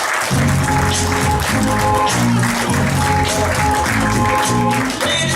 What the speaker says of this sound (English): give a round of applause, please, to your host and compere for the evening, Mr. Chris Brooker.